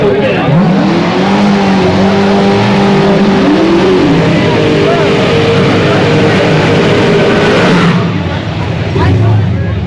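Drag race cars roar at full throttle, loud and continuous, with rising engine whine and tire squeal as vehicles including a Jeep Wrangler launch down the strip; an announcer talks over the engines.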